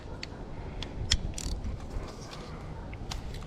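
A ratchet clicks while loosening T30 Torx bolts on a GM 5.3L V8 oil pump, a few quiet, scattered clicks and creaks close by, with no talking.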